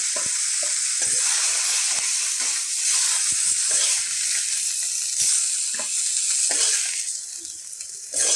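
Pieces of rohu fish frying in oil in a pan, a continuous close sizzle with occasional stirring scrapes and crackles, loud and unbroken with no talk.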